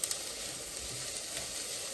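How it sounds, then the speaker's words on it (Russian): Onion frying in a pan, a steady close sizzle with soft crackles throughout and no talking. "Пожарился лучок."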